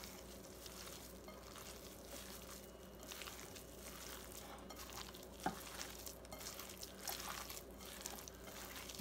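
Tuna, mashed potato and egg are stirred together in a bowl with soft, wet squelching and scraping that stays faint and close, with a few sharper clinks near the end.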